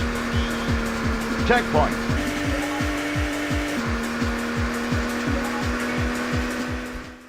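Racing in the N64 video game Automobili Lamborghini: a steady synthetic engine drone with a pulsing beat underneath, a brief skid squeal, and a voice announcing a checkpoint.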